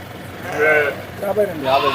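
Young sheep bleating close by, two or three wavering calls in quick succession over a low background hum.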